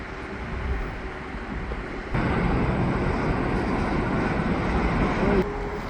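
An EXO commuter train rolls past on the tracks beside a walking path in Montreal West, producing a loud, steady broadband rumble and clatter that swells partway through and holds.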